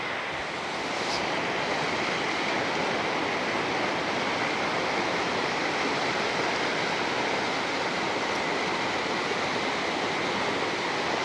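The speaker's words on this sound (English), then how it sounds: "there's all this white water here" White water rushes along a river in a constant, loud roar of broadband noise, unbroken and steady from start to finish, with no voices.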